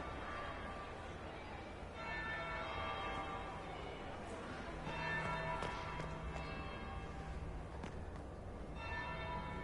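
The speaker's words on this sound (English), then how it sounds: "That would be the second bell." A large bell tolls repeatedly in the video game Dragon Age: Inquisition, rich ringing strikes every couple of seconds over a dense ambient game soundscape.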